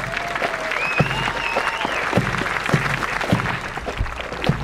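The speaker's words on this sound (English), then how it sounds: "Let's give them a big round of applause." Applause for Marine Corps officer candidates at an Officer Candidate School ceremony, crowd clapping with regular sharp low thumps and a few faint whistles or cheers, fairly loud and close.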